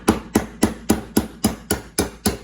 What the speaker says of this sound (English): So I'm going to have to hammer this to loosen it up